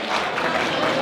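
Audience at a school gala fundraiser breaking into loud, dense applause, a close, continuous burst of many hands clapping that fills the whole short moment.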